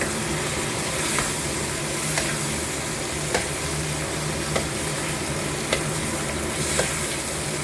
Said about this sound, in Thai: ใส่มะระลงไป ใส่มะระลงไปผัด